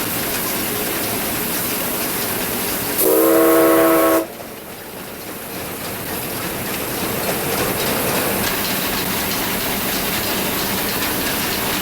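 A RENFE steam locomotive train runs with a steady rumbling, clattering roar; a loud horn or whistle blast sounds for about a second partway through before the running noise continues.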